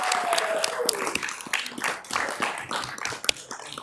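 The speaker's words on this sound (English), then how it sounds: "one more round of applause for all of our winners for the parade" Audience applause at a city council regular meeting for parade winners, a short burst of scattered claps mixed with room noise and faint voices.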